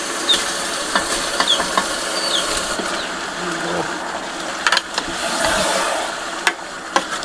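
Chicken meat added to a hot pan in Nepali home cooking, a steady close sizzle and hiss with occasional scraping and clinking from stirring, sharper clicks scattered throughout.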